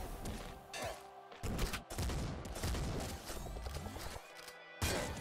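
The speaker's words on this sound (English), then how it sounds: "Bayonet rifle." Rapid bursts of bayonet rifle fire from the Nuclear Throne video game, repeated shots in quick clusters with short gaps, loud and close over busy game effects.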